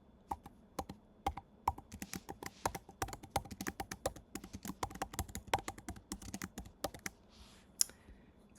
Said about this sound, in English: So I'm going to type in the address of a parcel of Vermont Family Forests land.